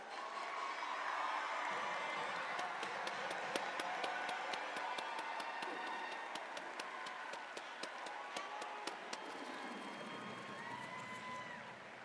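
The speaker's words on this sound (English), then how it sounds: "students, stand up and make some noise for your mentors and coaches" A large crowd of students at a FIRST robotics district championship cheers and claps for their mentors and coaches, a sustained roar with rhythmic clapping, fading gradually toward the end.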